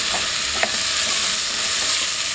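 A spice mixture cooks with potatoes and onions in a pan for a potato curry, giving off a loud, dense, continuous sizzle with a faint clink or two, close by with no talking.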